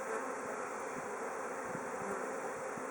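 Honey bees buzz steadily around an open hive frame of emerging brood, a close, dense and constant hum with no voices.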